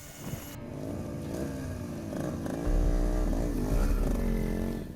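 A motorcycle ridden along a rural road in Solok, West Sumatra, its engine droning steadily up close, then revving and shifting pitch as the rider accelerates, louder in the second half, with no speech.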